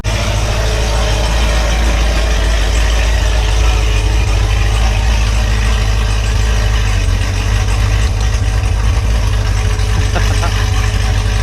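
A cammed Corvette Z06 engine idling: a loud, deep, continuous lumpy rumble with an uneven loping pulse, heard close up and filling the whole stretch without letup.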